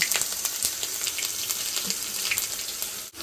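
Onion-ginger paste sizzling in hot oil in an aluminium pan while being stirred for pepper chicken, a steady close hiss with faint scraping, no voices.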